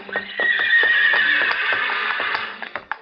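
A horse neighs in a long, bright whinny for a radio comedy about the Kentucky Derby, with hoof clip-clops tapping underneath and a few sharp snorts at the end, all close and clear.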